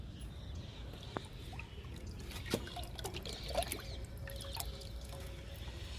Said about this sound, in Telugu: లిక్విడ్ ఇస్తున్నా.